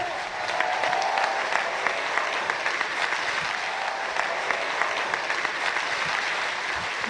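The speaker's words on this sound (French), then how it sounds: "On l'applaudit bien fort, Vincent Mahé." Steady, loud audience applause fills the hall for an award winner at a national real estate negotiators' convention trophy ceremony, sustained clapping from a large crowd throughout with no speech over it.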